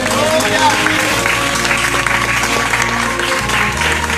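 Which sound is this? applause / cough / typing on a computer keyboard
applause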